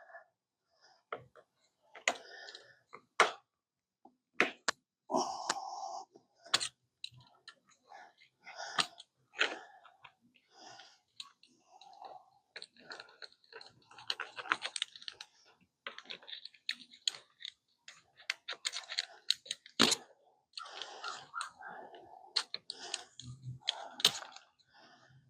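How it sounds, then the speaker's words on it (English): Weather stripping is cut to length at a door jamb, heard as a long series of sharp, close snips and clicks in irregular clusters, with short quiet gaps between cuts. "So we're going to have to cut it here at the jam."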